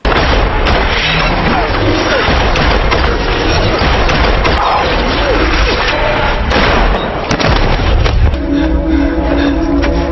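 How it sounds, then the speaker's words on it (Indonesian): Loud, dense gunfire and booming blasts crash over a thick action soundtrack, with repeated sharp shots going off continuously. "menghindari peluru yang Smith tembakan."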